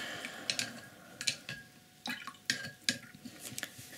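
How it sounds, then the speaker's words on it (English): A paintbrush is rinsed in a water pot during a one-stroke bird painting, producing soft irregular drips, taps and small splashes against the container. It is close but faint, with no talk. "wash my brush"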